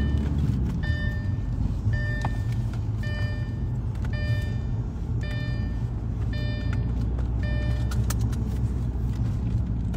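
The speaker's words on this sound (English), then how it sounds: "We're driving home anyway." A car drives along a road at night with a steady, close engine and road rumble, while a regular series of electronic beeps or chimes repeats about once a second over it, with no speech.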